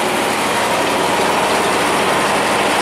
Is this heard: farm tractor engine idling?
yes